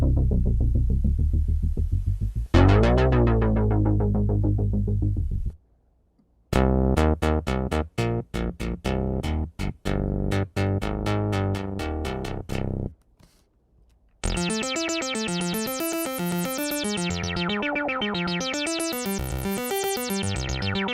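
Behringer JN-80 synthesizer patches played back one after another: a deep sustained chord, a run of rapid plucked notes, then a bright sweeping arpeggiated sequence, loud and close with short silent gaps between.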